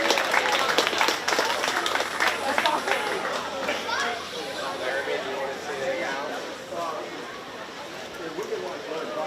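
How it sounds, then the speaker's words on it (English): At a 4-H and FFA swine show at a county fair, a crowd gives a round of applause that starts fairly strong then fades into chatter and children's voices in a large hall. "Give all 3 of those exhibitors a great big round of applause as they head back"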